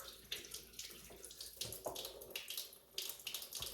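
Tap water runs steadily into a sink while carrots are rinsed for a slow cooker beet chili, a close, continuous splashing hiss with small bursts as the vegetables move through the stream.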